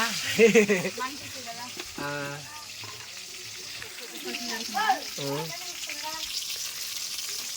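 Tomatoes added to a hot frying pan for a mushroom curry, sizzling and crackling steadily close by while voices talk over the frying.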